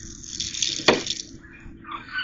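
Water is poured into a wetsuit in a short run of trickling and splashing, with one brief sharp splash near the middle.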